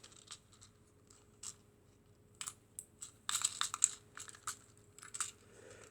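A decompression magic cube fidget toy being worked by hand gives scattered small clicks and snaps, sparse at first then a denser burst of crisp clicking, close and quiet with no talk.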